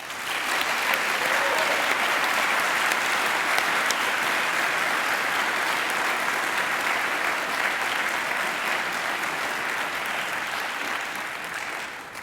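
Sustained applause from a large audience at a university graduation ceremony, a steady dense roar of clapping lasting throughout and tapering slightly at the end.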